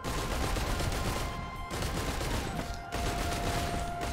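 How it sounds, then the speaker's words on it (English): Rapid gunfire in Risk of Rain 2 while shooting an elite enemy. The loud, dense fusillade runs almost nonstop, broken by two brief pauses. "Let me just see if I can go up here and shoot it."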